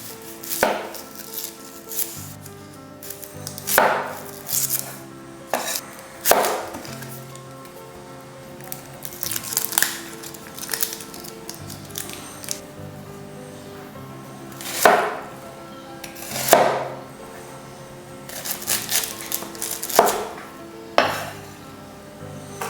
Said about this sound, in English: Also cut up 1 onion.